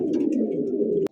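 Pigeons being sold at a bird market coo in a low, continuous, rolling drone close by, ending in a sudden click that cuts the sound off.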